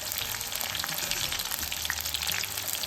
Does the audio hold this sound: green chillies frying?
yes